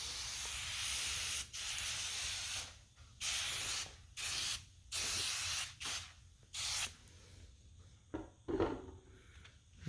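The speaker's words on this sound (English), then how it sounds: "So I'm gonna spray the whole thing" Repeated bursts of aerosol foam glass cleaner spray hiss close by onto a 1978 Monte Carlo fender, several long sprays separated by short pauses, then softer scattered hisses and rubbing.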